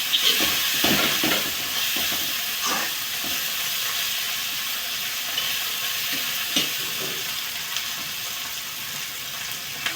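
Tomato cooking in a pan over a high gas flame, with chilli and salt, makes a continuous bright sizzle and hiss, scattered with soft pops and crackles throughout, no one speaking.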